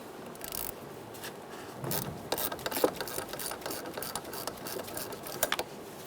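A ratchet with a 10mm socket loosens the negative battery terminal on a 2010-2013 Kia Soul 2.0L, giving short bursts of rapid clicking close up over a faint background.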